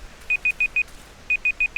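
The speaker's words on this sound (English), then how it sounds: "And that is my alarm." An alarm beeps in two quick bursts of four sharp, evenly spaced high tones each, with a brief pause between the sets, loud and close over faint background hum.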